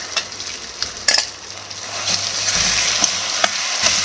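Ground masala fries in oil for mango chitranna, a steady close sizzle broken by several sharp scrapes and clinks of a spoon stirring against the pan.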